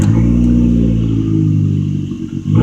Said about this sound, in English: It has a factory straight piped exhaust.